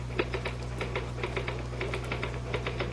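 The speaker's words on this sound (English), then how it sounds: "Just hit the typewriter, Harry." Typewriter keys clack in quick irregular bursts over a steady low hum, close and clear, with no voices.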